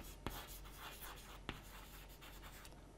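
Chalk or marker scratching steadily across a lecture-hall board as a fluid mechanics principle for analogue modeling is written out, a faint, continuous rubbing with two sharper taps along the way.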